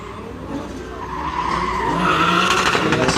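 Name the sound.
drift car tire skidding at DriftCup qualifying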